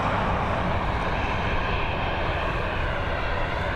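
An Airbus A320 landing at Dublin Airport makes a continuous loud engine roar and rushing rumble, steady and fairly close, with no voices over it.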